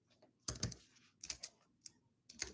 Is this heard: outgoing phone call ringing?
no